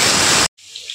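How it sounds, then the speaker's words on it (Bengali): Potatoes dropped into hot oil with tempered whole spices while cooking chicken kosha, heard as a loud, dense sizzle that cuts off abruptly, followed by a fainter crackle. "এবার দিয়ে দেবো মাংস করার জন্য আলু।"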